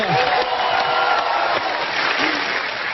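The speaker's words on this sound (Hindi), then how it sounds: "जोरदार तालियां हो जाए।" A studio audience on The Kapil Sharma Show breaks into loud applause and cheering, a thick, continuous wash of clapping from a large crowd that stays strong from start to finish with some voices mixed in.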